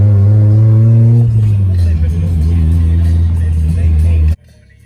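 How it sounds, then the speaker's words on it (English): Inside a white Mazda Miata cruising along, a steady low engine drone runs with muffled voices beneath it, then cuts off abruptly near the end. "Now we are in the white Miata, cruising around."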